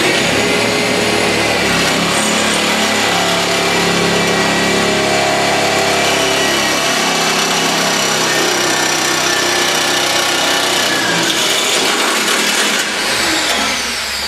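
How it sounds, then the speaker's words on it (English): A power drill bores into the steel box section of a car, a loud, continuous high whine with a grinding edge that holds steady for most of the time and eases slightly near the end, no talk. "Right, so I'll try and drill in here."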